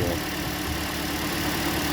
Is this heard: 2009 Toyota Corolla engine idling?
yes